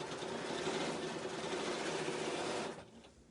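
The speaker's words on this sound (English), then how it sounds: "I'm stitching the binding on, and the raw edge of the binding is even with the outside raw edge of the quilt" A sewing machine runs steadily while stitching fabric binding onto the raw edge of a quilt, its even mechanical whir holding for most of the stretch before dropping away near the end.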